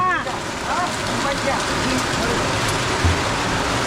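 Heavy storm rain pouring down outdoors, a dense, loud, steady hiss of falling water with brief voices audible at the start over the downpour.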